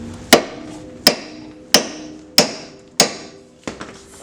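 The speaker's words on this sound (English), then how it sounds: "gotta separate this ball joint, and I'm gonna try first the pry bar" Six sharp metallic strikes ring out at an even pace, a pry bar being hammered to split the ball joint on a 1996–2000 EK Honda Civic during an axle shaft replacement, each hit loud and close with a brief ringing decay.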